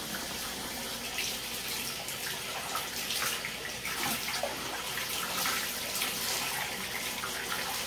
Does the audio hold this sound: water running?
yes